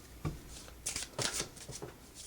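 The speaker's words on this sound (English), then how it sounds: "We take this base deck here that has these 4s, 2s, and 1s, and we shuffle them up." Smash Up base card deck being shuffled by hand in a board game setup: a few quick riffling bursts, crisp papery snaps spaced through the clip, close and clear with no talk.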